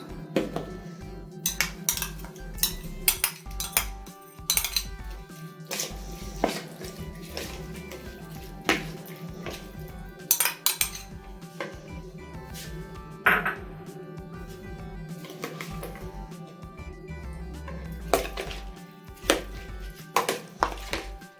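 Fish, horse mackerel, being mixed by hand with a tomato paste sauce in a dish, giving scattered wet squelches, light clinks and taps against the dish in an irregular rhythm, close and moderately loud.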